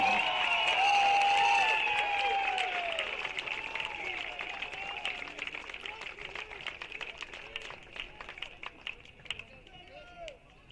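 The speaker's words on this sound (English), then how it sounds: "Let's hear a great Falcon round of applause for Hall of Famer Greg Key and center fielder Asa Aubrey." A crowd at a Montevallo college baseball game applauds for a Hall of Famer, loud at first over a public-address voice and tonal ringing, then thinning into scattered individual claps that fade toward the end.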